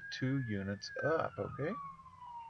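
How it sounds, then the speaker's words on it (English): A fire truck siren passes in nearby traffic, one long wailing tone slowly falling in pitch and running under a man's close speech for the whole stretch. "so you can hear a lot of traffic and sirens going by"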